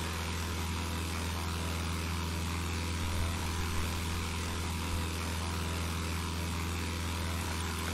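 Propeller airplane engine in the FlightGear flight simulator game: a continuous, steady droning hum at even loudness, unbroken and alone with no talking.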